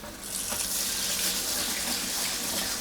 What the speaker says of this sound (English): Wash rice a couple of times to get rid of its starch.